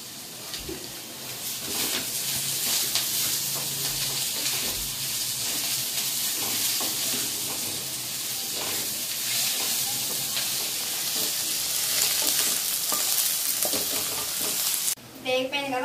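Cauliflower 65 curry frying and being stirred in a pan with masala and coriander, a dense steady sizzle with scraping stir strokes, close and fairly constant, ending in a brief clatter.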